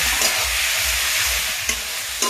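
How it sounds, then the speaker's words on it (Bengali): Continuous loud sizzle of ash gourd frying in a pan with green chilli, turmeric and salt, with a couple of sharp clicks from stirring near the end. "এখন আমি ভেজে নেব।"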